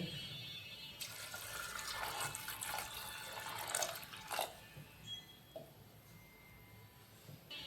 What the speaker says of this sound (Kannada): ಈಗ ಅದಕ್ಕೆ ನೀರು ಹಾಕಿ